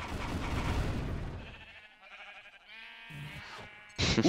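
Sheep bleating in a Minecraft-style modded game world, several wavering bleats in a row, the loudest burst at the very end, with no talk over them.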